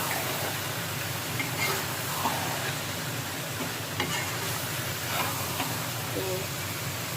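Crushed red chili is stirred into a sizzling pan while cooking a vegetable chicken biryani, a steady hissing fry with soft stirring scrapes and faint clinks, close up.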